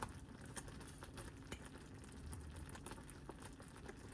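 A pot of fudge mixture bubbles steadily with a soft, continuous boiling patter and occasional pops, close by and uninterrupted.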